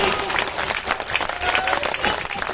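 A crowd applauds after a patriotic poem at a mushaira at Goenka College, Sitamarhi. The clapping is loud, dense and continuous, with some crowd noise and voices mixed in.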